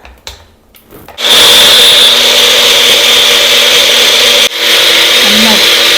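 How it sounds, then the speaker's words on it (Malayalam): A kitchen mixer blends whipping cream for homemade ice cream, starting after a second of quiet handling noise into a loud, steady whirring drone with a brief pause near the end before resuming. "ഈ വിപ്പിംഗ് ക്രീമും ഒന്ന് നന്നായിട്ടൊന്ന് മിക്സിയിൽ ഇട്ടിട്ട് ഒന്ന് ബ്ലെൻഡ് ചെയ്തെടുക്കുക"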